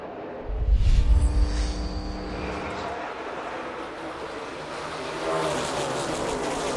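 NASCAR Xfinity Series race cars at Daytona roar at full throttle as the field restarts. A loud engine rush swells close by and then settles into a dense, sustained drone of cars, with commentators talking over it.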